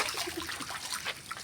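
Water let out and running freely, a steady broadband trickling and splashing flow of moderate, fairly close loudness across the whole stretch, with no talking.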